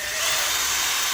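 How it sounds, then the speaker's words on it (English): A wire wheel grinds corrosion off a BMW alloy rim, producing a steady, harsh high-pitched whir that runs continuously and close without pause. "Bit of wire wheeling."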